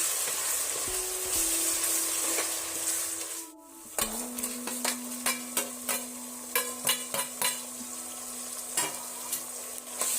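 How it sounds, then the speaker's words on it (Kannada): Tomatoes frying with masala for biryani, a steady sizzle broken by a short pause, then repeated spoon-and-pan clinks and stirring strokes over the continuous frying. "ಟಮಾಟೆ ಹಾಕಿ ಫ್ರೈ ಮಾಡ್ಕೋಬೇಕ್ರಿ"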